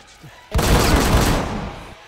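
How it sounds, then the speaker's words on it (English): A single loud gunshot blast cracks out after a quiet start, followed by a long, dense ringing echo that slowly decays, with no talking over it. "Shot fired!"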